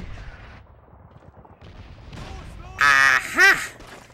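Gunfire in the World War II shooter Call of Duty 2 comes as a few muffled, distant reports under a quiet ambient bed, followed by a louder burst and a sharp, whining tonal sweep near the end; someone speaks briefly.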